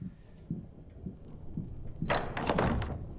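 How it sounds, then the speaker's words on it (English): A door is forced open in the horror game Arkham Horror: Mother's Embrace: a few soft thuds come first, then a louder burst of creaking, scraping and clattering as it gives way. "Just force the door open."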